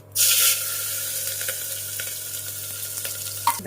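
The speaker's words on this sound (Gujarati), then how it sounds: "રાઈ બરાબર ફૂટી જાય એટલે જીરું હિંગ અને સંભાર છે એટલે આટલું હું મેથીનો અધ કચરી વાટેલી મેથી નાખી દઈ" Mustard seeds, cumin, asafoetida and coarsely crushed fenugreek crackle in hot oil for sambar: a loud hissing burst at first, then a continuous close frying sizzle.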